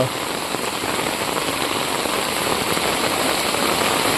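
Heavy rain pours down over a village during a flood, a dense, loud, unbroken hiss that stays even from start to finish without voices.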